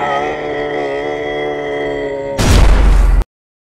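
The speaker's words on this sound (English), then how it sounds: "A deafening explosion jolted the air, and then there was silence." A heavy explosion bursts in the video game Scrap Garden, a sudden loud roaring blast over a droning tonal background hum, lasting under a second before cutting abruptly to silence.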